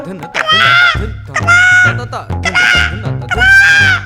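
A man mimics a crow with loud, nasal, drawn-out caws, four or so in a row, close to the listener.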